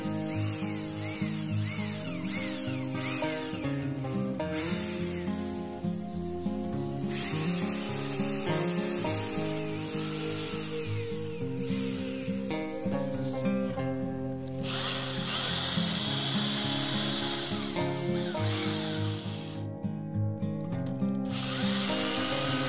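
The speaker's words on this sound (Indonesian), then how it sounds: "Kita bor yang sudah ditandai." A power drill bores into a marked spot on a wooden door frame while a door closer is fitted, whirring steadily and loudly at close range for over twenty seconds, its pitch shifting as the bit bites into the wood.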